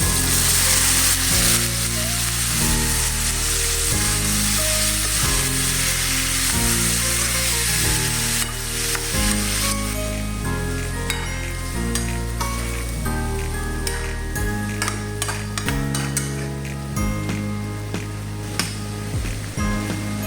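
Squid sizzles steadily as it fries in a pan of ginisang pusit with eggplant, a continuous hiss partly buried under loud melodic background music.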